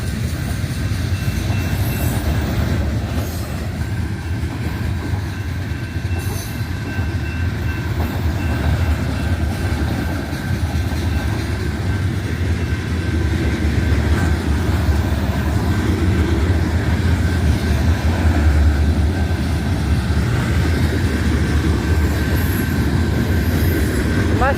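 A long freight train of oil tankers and boxcars rolls past at night with a loud, continuous rumble and clatter. The sound holds steady throughout, with a faint wheel squeal above it.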